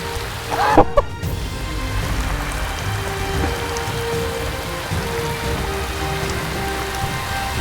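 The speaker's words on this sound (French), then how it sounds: "Il pleut, là." Heavy rain falls in a steady, dense patter during a storm on a fishing outing, loud and continuous, with a brief burst of rattling noise near the start.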